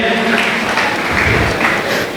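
Audience applause at a youth award ceremony in Ahmedabad, a steady wash of clapping that fills the whole moment at fairly loud level, with some crowd noise mixed underneath.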